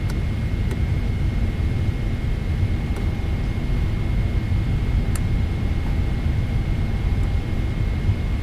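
Steady, loud broadband roar of the twin jet engines on a Jin Air Boeing 777-200ER at takeoff, running continuously with a faint high whine and no talking.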